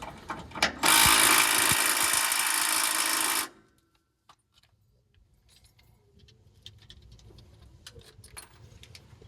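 An air ratchet buzzes loudly for about two and a half seconds while removing bolts under a transmission cooler, then cuts off, leaving faint clicks and workshop rustling.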